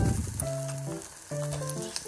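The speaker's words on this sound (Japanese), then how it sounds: "お肉と厚揚げを一緒に焼いていくよ" Chicken thigh pieces and thick fried tofu sizzling together in a pan, a steady close hiss broken by light pops, with a faint tonal hum running underneath.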